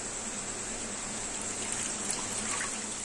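Water running into a bowl that held coconut milk for a hilsa fish malai curry, a steady trickling pour at close range.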